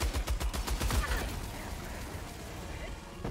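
Heavy machine gun fire in the video game Helldivers 2: a loud, rapid burst of evenly spaced shots for about a second, then a rumbling, noisy tail.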